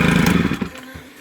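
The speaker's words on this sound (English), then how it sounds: "So it's running great. That's what I wanted to do. Idling perfect." Stihl HL100 hedge trimmer, a small two-stroke engine, running loud and steady at close range for about half a second before the sound drops and tails off toward a low residual hum.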